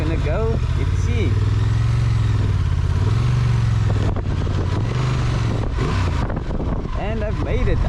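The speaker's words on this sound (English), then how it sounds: "it's very possible to jump on this bike and try and attack a hill like this" A 2024 Honda Transalp XL750 motorcycle climbs an off-road hill, its engine revving up and down in repeated surges under heavy wind noise, with a rider speaking over it at times.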